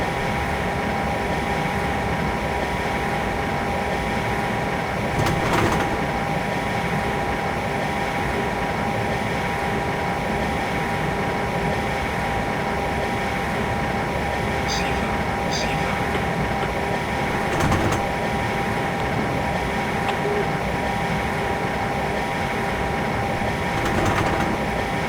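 ICE2 high-speed train in Train Simulator 2015 on the Hamburg to Hannover line, a steady droning rumble with constant tonal hum and occasional brief clicks, no talk over it.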